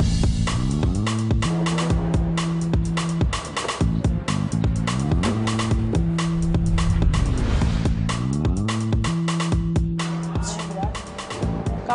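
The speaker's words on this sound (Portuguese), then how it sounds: "13 anos que você não anda de carro de turismo." A touring car driven on a race track, its engine note rising and falling through gear changes with tyre noise, loud and continuous; people talk over it.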